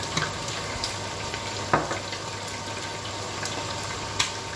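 Chicken frying in a pan hisses and sizzles softly as tomato juice goes in for a sweet, sour and spicy sauce, with a few sharper pops and stirring clinks over a low steady crackle.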